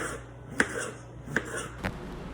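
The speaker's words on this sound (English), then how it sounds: "we're gonna just keep chopping up the vegetables for the stir fry here. Finish up with the zucchini." Zucchini being chopped with a knife on a cutting board for a stir fry: three crisp, evenly spaced chops over about two seconds, close and moderately loud, with no talking.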